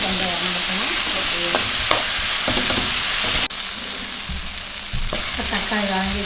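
Tomatoes sizzling in a hot pan for a brinjal potato curry, a steady loud frying crackle with repeated scraping strokes of a spoon stirring, close up and without speech.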